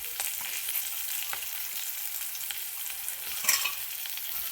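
Flour and chilli mixture, seasoned with asafoetida and salt, frying in oil and being stirred: a steady sizzle with scraping strokes of a spoon against the pan, close and continuous, with no voices.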